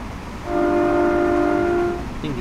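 In Train Simulator 2017, an HST train on a London to Peterborough run sounds a loud, steady two-tone horn blast lasting about a second and a half over rumbling rail noise.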